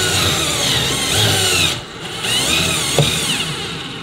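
Power tool driving bolts during speaker installation in a Volkswagen Jetta, a steady whirring drill tone that cuts out briefly and then resumes, ending with a small knock, close by and without talking.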